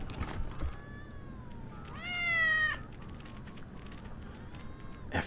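A cat in Wasteland 3 gives a drawn-out yawning meow, a brief rising-and-falling tonal cry of about a second set against low background hum, with a quieter mewing sound earlier.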